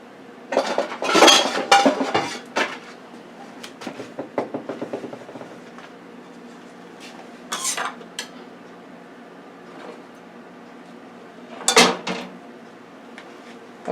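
Metal pans, racks and utensils clatter as a beef strip steak is pulled from a Power Air Fryer Oven after six minutes and turned over: repeated close clinks and scrapes, busy at first, then sparser knocks with a final loud clatter.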